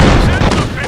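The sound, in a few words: Panzer Strike artillery fire in video game Company of Heroes 2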